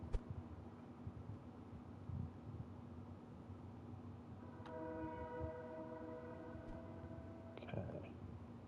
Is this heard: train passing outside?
yes